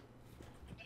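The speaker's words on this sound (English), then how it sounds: "I don't care about the sheep at this point." Minecraft sheep bleating in-game, a short, faint cry rising over a quiet background, with no talking.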